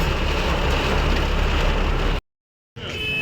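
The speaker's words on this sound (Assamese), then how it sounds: "পূৰা বৰষুণ ইয়াত" Heavy rain pours steadily during a trip to Manipur, a dense broadband hiss filling the scene at high level, briefly cut to silence before resuming.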